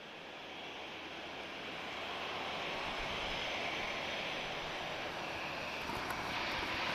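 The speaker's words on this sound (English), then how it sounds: "Danish Air Transport A321 from Copenhagen" A Danish Air Transport Airbus A321 jet at Lisbon Airport produces a broad, continuous roar that grows slightly louder and holds steady, with wind-like hiss and no voices.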